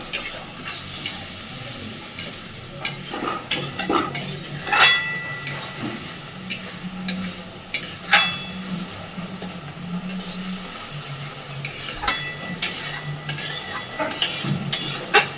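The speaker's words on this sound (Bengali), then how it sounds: "অল্প অল্প করে জল দিয়ে দিয়ে কষাতে থাকবো" Masala stirred and fried in a pan as water is added bit by bit, with intermittent scraping and clinking of a utensil over a low sizzle; a voice murmurs faintly at times.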